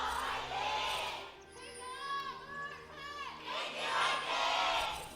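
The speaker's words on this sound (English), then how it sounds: "You can hear the crowd." A large esports crowd at a League of Legends match roaring and cheering in waves, swelling and fading, with a voice talking over the noise.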